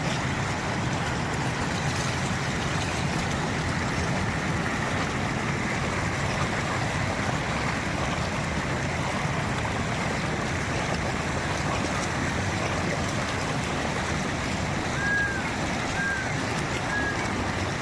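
Fast floodwater from the hills rushes after heavy rain in Gujarat, a steady, dense roaring wash that holds constant throughout, close and fairly loud, with no voices.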